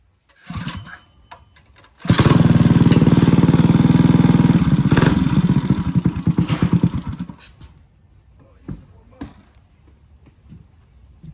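A CT100 motorcycle engine fires up outdoors after a few short bursts, then runs loud and steady for about five seconds while warming up before dropping to a sputtering idle and fading into faint knocks.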